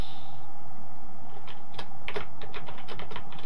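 Fingers type on a computer keyboard while entering web page text, a close, rapid patter of light plastic key clicks at an uneven rhythm.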